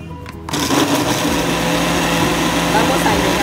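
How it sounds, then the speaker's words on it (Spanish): A kitchen blender whirs loudly and steadily as it purees cheese and milk, starting abruptly after a short quiet moment and running without pause. "el queso que ustedes decidan, la leche, y lo ponen a licuar"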